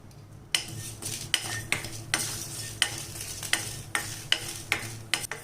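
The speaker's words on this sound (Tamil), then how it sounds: "இப்போ பொரிய ஆரம்பிச்சிச்சு சீரகம்." Cumin seeds and two dried red chillies crackling in a hot pan, a continuous close hiss broken by regular sharp taps of a utensil stirring against the metal, roughly one every half second.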